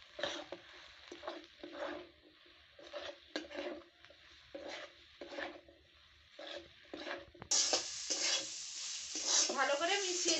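Ground mustard, cumin and dried chili pastes sizzle in a pan while being stirred, with repeated close scraping strokes, then the frying swells louder and brighter near the end.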